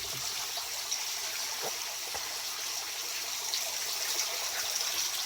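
In a garden aquaponics system, water trickles steadily and gently through small tubes, a continuous close, soft flowing sound with no speech.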